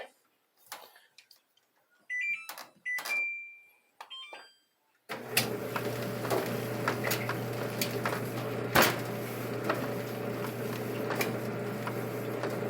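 A few clicks and button beeps, then a clothes dryer starts: steady motor hum with irregular knocks and thumps of a heavy metal tank tumbling inside with rocks for rust removal.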